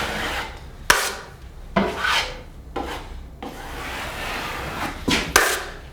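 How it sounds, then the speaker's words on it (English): A drywall knife scrapes joint compound smooth over tape in a wall corner, producing close, rasping strokes that swell and fade with occasional sharp knocks. "I just go over it lightly with the knife and clean it up a little."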